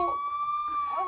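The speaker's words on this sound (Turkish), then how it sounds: "Bu siren sesi de ne böyle ya?" Siren in a cartoon prison escape video game: a steady, loud electronic wail that holds one pitch throughout, with faint talk mixed in.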